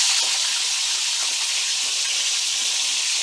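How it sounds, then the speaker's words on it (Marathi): Cubed paneer frying in hot oil for a large dhaba-style matar paneer batch gives a loud, steady, close-up sizzle and crackle that runs without a break and has no voices over it. "आता मी पनीर तळून घेते, त्यासाठी तेल तापत ठेवलं आहे"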